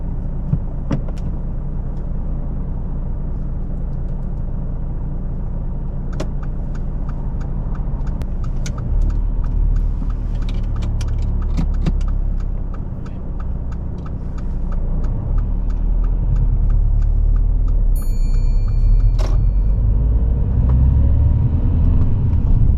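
A car pulling away on a mock driving test, a steady close engine rumble inside the cabin that builds as it moves off, with faint clicks and road noise and no speech.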